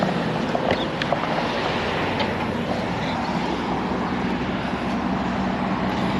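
Steady wind buffeting outdoors while walking up a slight incline on a long city walk, a constant broadband rush with low gusty rumble, no voices.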